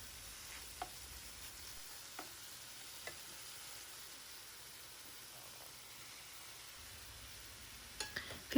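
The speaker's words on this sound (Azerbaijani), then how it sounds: "Və filemizi də qovururam." Mushroom fillets fry in a pan with a steady low sizzle, a few faint clicks and taps of stirring scattered through.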